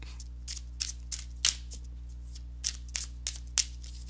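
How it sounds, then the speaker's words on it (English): Tarot cards riffled in a series of short crisp bursts, about ten quick papery flutters spaced irregularly, close by, over a low steady hum. "let me go ahead and give these tarot cards a shuffle"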